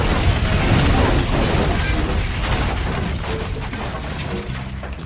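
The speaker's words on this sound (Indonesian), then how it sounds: "Alhasil dinding kios itu jadi terbakar dan meledak." Flames engulf the wall of a food kiosk in a film and it explodes, filling the scene with a dense, loud roaring rumble and crackling bursts that slowly ease off.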